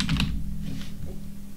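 Fingers tap out a short prompt on a computer keyboard, a quick cluster of close keystrokes at the start followed by a few softer clicks over a steady low background hum.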